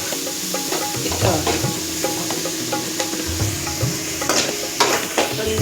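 Tomatoes sizzle in a hot pan while being cooked for an okra thokku, a steady frying hiss broken by scraping stirs and clinks of a spoon, close and alone with no voices.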